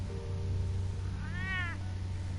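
A cat meows once in a single drawn-out cry within Batman: The Telltale Series, sounding over a steady low ambient hum.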